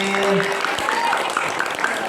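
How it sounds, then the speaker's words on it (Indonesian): Applause from a crowd of students at a 2025 santri camp outing in Karawang, a continuous even patter of clapping mixed with murmuring voices. "boleh tepuk tangan sekali lagi"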